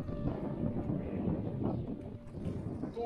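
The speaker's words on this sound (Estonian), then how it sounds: "Tuul tõuseb." Wind picking up over a lake while fishing gives a low, rumbling buffet against the microphone, soft and uneven, with faint splashy water noise beneath and no speech.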